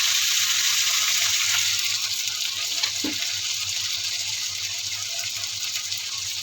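Water poured into a cooking pot of chicken liver adobo seasoned with lemon, soy sauce, black pepper, salt, garlic powder and paprika, heard under a steady, loud sizzling hiss with a brief splash partway through.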